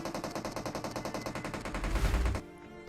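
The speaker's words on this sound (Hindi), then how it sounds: "फिलहाल इस बंदे की स्कारल की आवाज सुनते रहो बस।" Sustained automatic fire from a SCAR-L rifle in the PUBG Mobile battle game, a rapid even burst of about two seconds that cuts off abruptly, heard alone at moderate volume.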